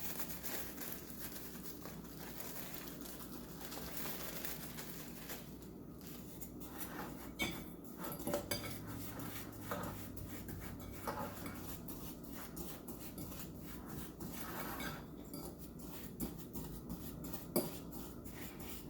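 A fork crushes Oreo cookies into crumbs in a bowl, making soft, scattered scraping and tapping clinks at low volume over a steady quiet background.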